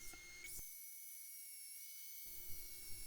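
A walnut bowl spins on a lathe while 3.5-inch dimple sanding discs work it, a steady high-pitched whine held throughout, faint and distant, with a brief dropout of the low end midway.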